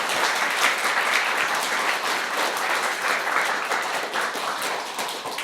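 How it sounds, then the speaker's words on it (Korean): A church congregation applauds its youth group with steady, dense clapping that fills the room at an even loudness from start to finish, with no voices standing out. "우리 청년들에게 큰 격려와 축복의 박수를 보내도록 하겠습니다"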